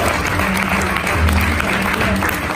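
A live audience claps steadily and densely at a Swiss Voice Tour singing contest semi-final, a loud, continuous wash of applause with crowd noise and some speech underneath.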